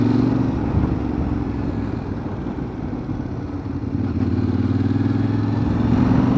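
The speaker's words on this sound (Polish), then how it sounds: "Też jakieś krosy, fajne motorki." Motocross dirt bikes pass nearby on a road in the Skole mountain region of Ukraine, a steady mid-pitched engine drone with rough revving and clatter running throughout at fairly loud level.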